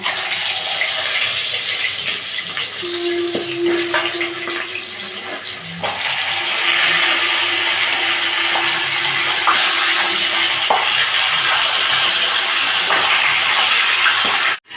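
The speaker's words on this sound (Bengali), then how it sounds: "তেল কিন্তু গরম হয়ে গেছে, এবারে মাছগুলোকে ভাজা হচ্ছে।" Fish heads fry in hot oil in a pan, giving a loud, steady sizzling hiss that runs unbroken throughout, with a few faint clinks.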